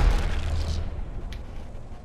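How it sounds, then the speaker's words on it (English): A grenade explosion in the video game Apex Legends: a single heavy boom at the start that quickly fades into a low rumbling tail. "Grenade."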